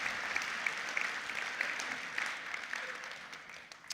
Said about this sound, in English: just clap internally, clap loud